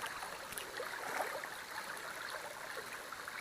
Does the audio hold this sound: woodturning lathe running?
no